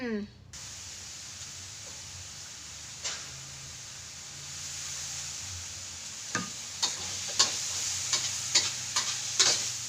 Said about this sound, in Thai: เราไปผัดกัน